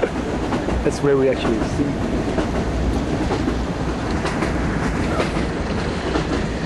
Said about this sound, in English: we are is on the train to Chiang Mai.